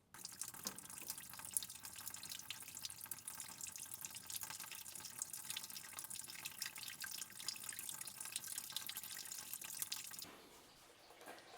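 Engine coolant draining from a small valve at the bottom of a radiator, a steady hissing trickle of liquid running continuously for about ten seconds before cutting off.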